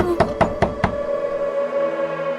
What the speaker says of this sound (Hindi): तभी उनके कमरे के दरवाजे पर कोई दस्तक देता है